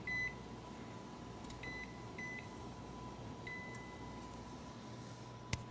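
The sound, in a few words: oven timer beeping as it is set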